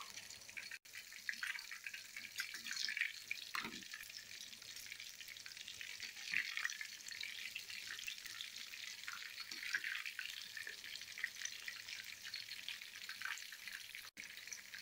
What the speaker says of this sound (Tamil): அதுக்காக தான் டீப் ஃப்ரை பண்ணுறேன்.